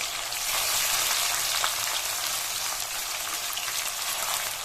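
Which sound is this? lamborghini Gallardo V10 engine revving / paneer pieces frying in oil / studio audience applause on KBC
paneer pieces frying in oil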